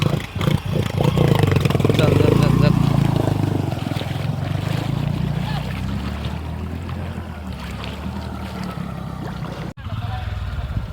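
A motorcycle engine keeps running after being pushed through muddy water, a steady low rumble close by that fades slightly, with people talking over it.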